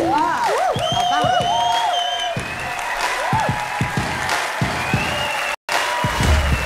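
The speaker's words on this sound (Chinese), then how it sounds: "咱们掌声欢迎啊" Studio audience applause on a Chinese TV job-interview show, a steady patter of clapping that fills the room beneath bright music tones and a few spoken voices.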